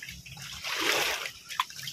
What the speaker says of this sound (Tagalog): Malakas na yung pasok ng tubig.